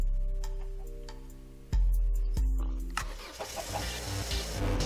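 A car engine in a video game on a community server cranks and catches with a sudden loud roar, then settles into a steady idle with rumbling revs and clicks, preceded by soft ticking and a quiet hum.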